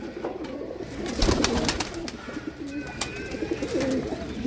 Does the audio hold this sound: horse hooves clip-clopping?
no